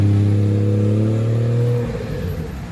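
A car engine revs hard and steady at close range while the driver works the clutch, then the revs drop off abruptly and the engine settles to a rougher, lower idle.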